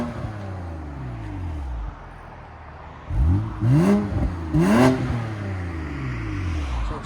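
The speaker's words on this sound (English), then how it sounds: "Rev it. Go ahead and back it up. M2 competition. Here we go. Valves closed." 2019 BMW M2 Competition with a 3.0L twin-turbo inline-six and exhaust valves closed, idling low and then revved twice in quick, close blips that rise and fall, settling back to a steady idle.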